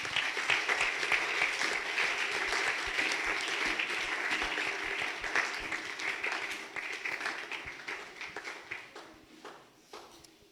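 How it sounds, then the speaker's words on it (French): A church congregation claps steadily as an offering of praise during a French-language service, dense applause that holds for several seconds, then thins and fades toward the end, with no talk. "Nous pouvons donner une offrande d'acclamation à l'Éternel."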